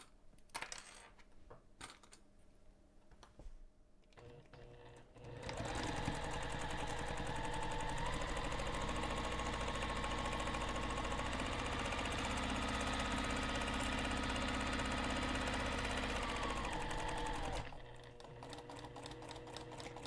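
A sewing machine stitching padded backpack straps runs in one steady, continuous burst of fast whirring stitches after some quiet handling noises, then stops abruptly and the handling sounds resume.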